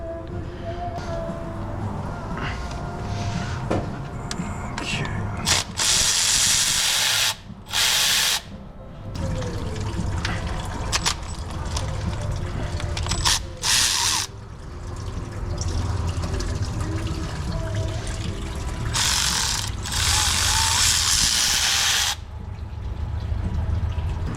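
Repeated bursts of a ratcheting tool clicking over a bolt, broken by pauses, with a running mechanical hum and some splashing underneath, while undoing thermostat bolts on a 2017 Dodge Ram 2500 with a 5.7L HEMI.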